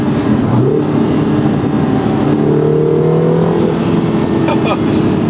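A Lotus Emira with a four-cylinder engine rises and settles in revs on a drive, heard from inside the cabin as a steady engine drone with pitch swells, with a short burst of talk near the end.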